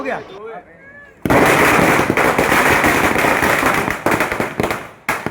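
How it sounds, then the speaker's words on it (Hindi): Firecrackers set off for a groom's entry at a Muslim nikah wedding in Valsad burst in a loud, dense crackling barrage after a quieter opening, sustained for several seconds with a few sharper pops near the end. "इसलिए हमने ये फायर क्रैकर्स लगाए हैं"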